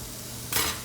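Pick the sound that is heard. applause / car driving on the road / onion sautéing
onion sautéing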